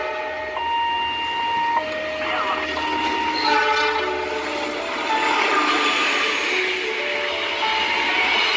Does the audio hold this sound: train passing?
yes